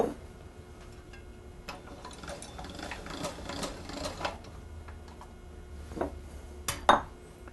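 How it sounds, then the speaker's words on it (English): Hand-crank pasta machine cutting moist, stiff dough into fettuccine with its cutter rollers, a close, steady mechanical whirring and clicking over several seconds with a couple of sharper clacks near the end, no talking. "I'm going to move my crank to my fettuccine cutters"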